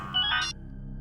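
A short electronic phone ringtone chirps briefly and then cuts off, leaving quiet room tone behind it.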